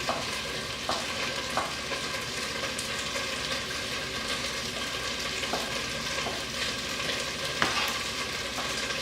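Pork pieces and browned, softened potatoes fry in a pan with a constant close sizzle, and occasional utensil clinks and scrapes stand out over the steady hiss.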